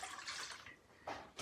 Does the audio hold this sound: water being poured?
yes